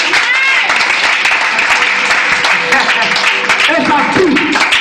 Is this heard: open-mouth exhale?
no